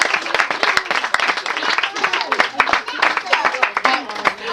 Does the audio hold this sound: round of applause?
yes